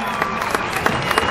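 Crowd applause at an AAA lucha libre women's elimination match in Guadalajara, a dense, steady patter of clapping with a few sharper claps rising out of it.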